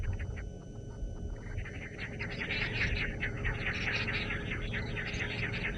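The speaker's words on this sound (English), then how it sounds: "If I keep quiet for a second now, you'll hear kukuru, kukuru from all around us." Wild birds call in a repeated kukuru pattern all around a safari vehicle at sunrise, the overlapping calls rising from several directions at moderate distance over a steady low engine or wind hum, with no one speaking.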